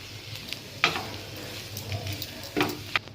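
Lightly fried onions sizzle in a pan with butter, turmeric and other ingredients being added for a bread-based filling; a steady low hiss runs throughout, with a few louder clatters of stirring or tipping in.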